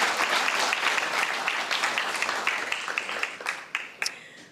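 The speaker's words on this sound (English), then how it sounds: "round of applause." Audience applause at a guide dog graduation, a crowd clapping steadily at moderate volume, then thinning out to a few scattered individual claps at the end.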